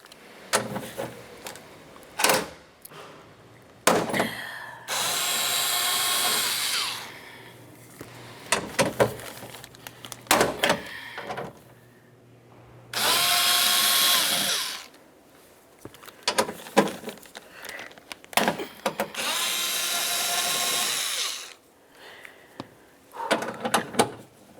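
A power drill removes bolts from the door of a 2006-2012 Toyota RAV4 during a window regulator job, giving three close, loud, sustained whirring bursts with quieter clanks and handling noises between them.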